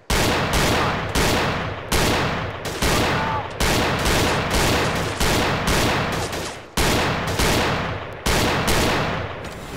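Rapid pistol shots fired in the VR shooting game Gun Club VR, a loud close burst of about a dozen sharp cracks in quick irregular succession, each with a short ringing tail, no talk over them.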